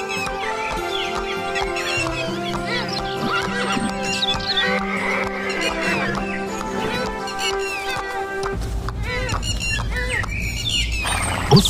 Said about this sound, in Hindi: राजा महल से घोड़े पर सवार होकर अकेले ही निकलता है